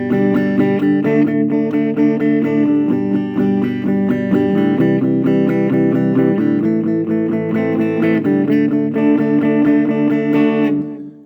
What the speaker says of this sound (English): So if you're doing the acoustic vibe, you're going to have something that sounds like this.